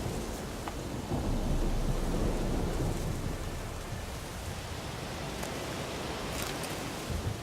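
A thunderstorm in The Witcher 3 video game: steady, dense rain on surfaces with low rolling thunder rumbling throughout, moderately loud and continuous, with no voices.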